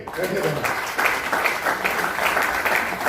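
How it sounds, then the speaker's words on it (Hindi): An audience at a motivational leadership seminar claps together on request, a thick, steady wash of hand claps close by with a voice briefly heard at the start. "चलिए ताली बजाइए।"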